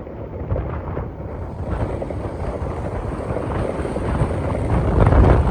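Strong storm wind buffets the microphone at Mangla Dam, a dense continuous roar and rumble with rushing water-like texture that builds steadily louder toward the end, with no voices.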